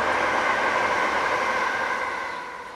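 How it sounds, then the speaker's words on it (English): A train rumbles past nearby as a steady broadband roar of wheels and carriages on rails, loud and continuous, easing off slightly toward the end, with no voices. "Just wait for the train to go past."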